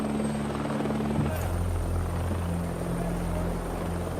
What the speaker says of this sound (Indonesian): keesokan harinya Iceman pun datang dengan sebuah helikopter